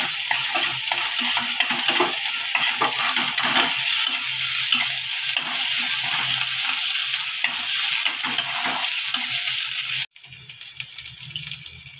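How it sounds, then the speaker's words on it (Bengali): Onion with ginger-garlic paste fries in oil in a pan, with a dense sizzle and frequent close stirring scrapes. The sound cuts out abruptly near the end, then resumes more quietly. "আদা পেঁয়াজ রসুন ভালোভাবে ভাজা হয়ে তেলটা ছেড়ে দিয়েছে"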